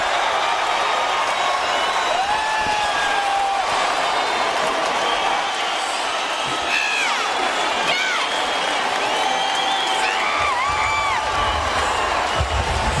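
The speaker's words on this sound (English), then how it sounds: "Listen to the reaction of this crowd." A large arena crowd at a Cung Le versus Tony Strickland fight in San Jose erupts after a knockout, with loud continuous cheering, whoops and whistles rising and falling, and a commentator's voice underneath.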